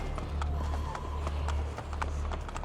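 A horse's hooves clip-clop in a steady walking rhythm on a Rome street in Assassin's Creed Brotherhood, under a constant low rumble of city ambience.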